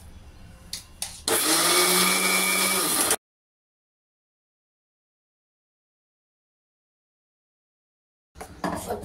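A mixer grinder grinding dosa batter runs loud and steady for about two seconds, then cuts off into silence, with faint handling sounds before and after.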